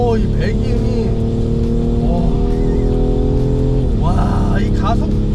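A BMW 840d Gran Coupe diesel accelerates hard in sport mode, its exhaust a loud, continuous drone heard from inside, with brief talking over it.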